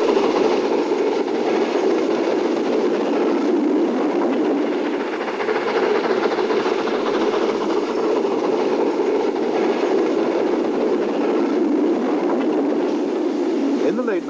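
A steam train rumbles past continuously on a suburban line at Trindade station, Porto, in the 1970s, a steady dense roar of wheels and machinery with faint clicking, loud and close for the whole stretch.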